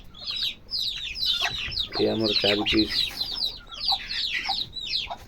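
Young free-range desi country chicks clucking and peeping in quick bursts over a farmyard, with a person talking nearby partway through.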